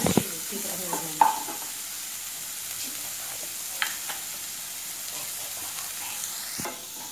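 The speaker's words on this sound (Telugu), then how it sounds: "ఇప్పుడు వచ్చి ఆనియన్ నస వేగుతూ ఉంది" Chopped onion fries in a pan, giving a steady close sizzle and hiss with scraping, clattering stirring strokes now and then, loudest at the start and scattered through the rest.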